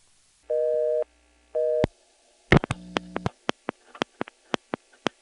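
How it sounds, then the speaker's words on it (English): A 1977 No. 1 EAX local/toll telephone switch in Rock Hill, SC answers a 119 dial with two short steady tone bursts, then a loud train of sharp, irregularly spaced ticks. "when I dialed 119 in front of my number, it returned my coin before the ticking tone"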